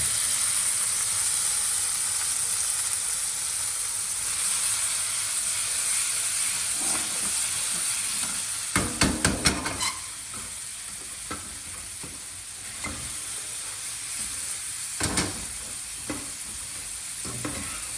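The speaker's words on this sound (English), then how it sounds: "Remember to use nearly maximum fire for the cherry tomatoes because we want to roast it like the pepperoni." Cherry tomatoes and peppers sizzle and hiss steadily in a pan over nearly maximum heat, with a few sharp clattering stirs and scrapes around the middle and again near the end.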